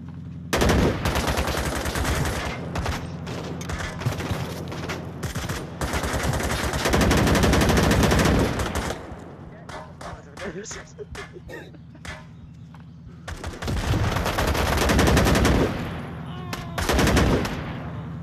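Gunfire in the virtual reality shooter Onward, with loud, sustained bursts of automatic fire and rapid shots in long stretches separated by brief pauses, with voices heard between volleys.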